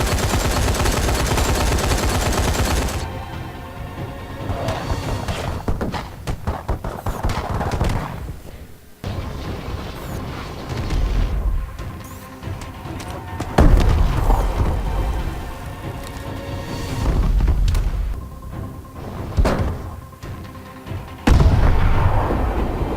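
The Paladin scorestreak gunship in Call of Duty: Advanced Warfare fires its machine guns, rockets and 105 mm cannon in loud, dense, continuous volleys of booms and rattling bursts, with short lulls between barrages and no voices.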